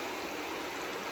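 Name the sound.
river flowing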